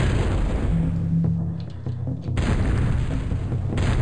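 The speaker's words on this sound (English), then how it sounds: "Just have those two cannons shoot out there." Cannons fire in the strategy game Total Annihilation: Kingdoms, loud booming blasts in a dense rumble with a brief dip before the barrage swells again, no voices.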